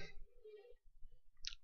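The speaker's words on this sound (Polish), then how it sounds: "No i już klikam" A single crisp computer mouse click lands near the end, close and quiet, while launching a Windows 8 installer, after a moment of soft low background sound.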